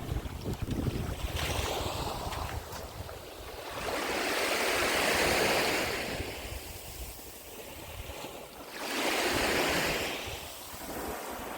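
Sea waves roll onto the beach at the Karolino-Buhaz resort village in Odesa region, a steady loud wash that swells twice into surging breakers, with heavy wind buffeting the microphone and no voices.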